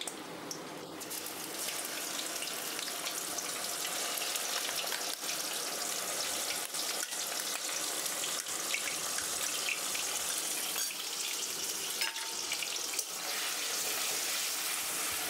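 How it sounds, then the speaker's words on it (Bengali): Chicken with onion paste frying in a pan for a restaurant-style chicken bharta, a steady close broadband sizzle that holds evenly throughout with no talking. "আমি ভাজা ভাজা করে নেব।"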